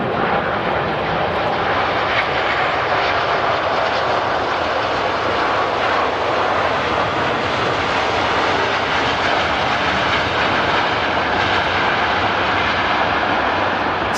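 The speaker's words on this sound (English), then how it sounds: "Singapore Airlines A350 900 coming in from Singapore" A Singapore Airlines Airbus A350-900 arrives at Manchester from Singapore, its engines a constant, dense roar that neither rises nor fades.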